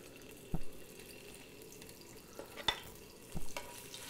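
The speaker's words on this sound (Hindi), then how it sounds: "और जिंजर गार्लिक पेस्ट को अच्छी तरह भून लो।" Ginger garlic paste frying with shahi cumin in hot oil, a soft steady sizzle punctuated by a few sharp scraping and stirring clacks of a utensil against the pan.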